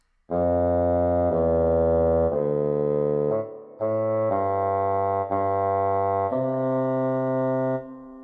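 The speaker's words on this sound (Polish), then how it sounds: "a fagot brzmi tak." A bassoon plays alone, sustaining a series of smooth low notes one after another, with a short pause midway through the phrase.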